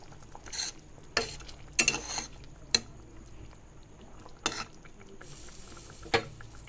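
Boroli fish curry with mustard being stirred in a pan: several scattered scraping and clinking strokes of a spoon against metal, with soft bubbling between them and no speech.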